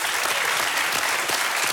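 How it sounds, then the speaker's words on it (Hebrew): A crowd claps for Naftali Bennett, a brief, dense burst of applause that stays loud and even from start to finish. "כפיים לבנט"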